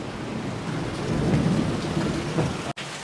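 Heavy rain pours steadily, with a deep rolling rumble of thunder swelling underneath, close and continuous.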